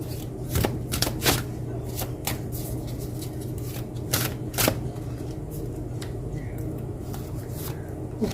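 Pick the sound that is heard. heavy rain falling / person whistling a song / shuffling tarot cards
shuffling tarot cards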